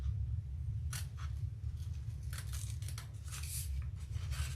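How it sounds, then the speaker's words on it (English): Sharp sewing scissors snipping thread while making a fabric toiletry bag; several quick, close, crisp snips in an irregular rhythm over a faint low background hum, no talking. "Helps to have a really sharp pair of scissors."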